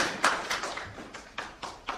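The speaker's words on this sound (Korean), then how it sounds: "박수 한번 맞아주시면 감사하겠습니다." Audience clapping at a church symposium, sparse and uneven, with a handful of distinct claps at irregular intervals, moderately faint in a quiet room.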